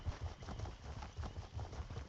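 Horse hooves clip-clop at a steady trot in a fantasy role-playing video game, a soft, even rhythm of low thuds repeating throughout without any talk.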